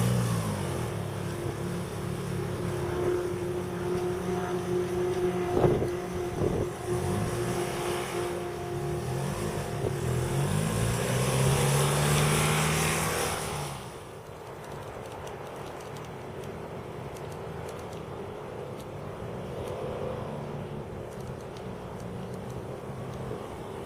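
Zeus Sidebike, a motorcycle with an integrated sidecar, runs with a steady engine note that swells and revs upward before dropping back to a quieter, even running sound.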